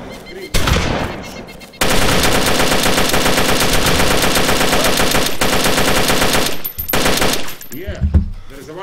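Loud automatic gunfire in a video game roars in a long, continuous rattling burst after a brief opening shot, then breaks off into scattered quieter noises near the end.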